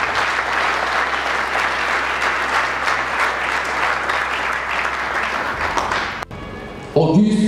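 A large formal assembly at a conference on concrete and the mining boom applauds the organizers, with steady, loud, dense clapping that carries on evenly before breaking off abruptly near the end.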